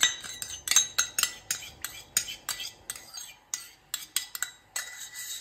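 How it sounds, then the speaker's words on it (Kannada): A spoon stirring curd in a bowl, producing a quick series of close, bright metallic clinks and scrapes in an uneven rhythm, with no voices. "ಚೆನ್ನಾಗಿ ಮಿಕ್ಸ್ ಮಾಡ್ತಾ ಇದ್ದೀನಿ."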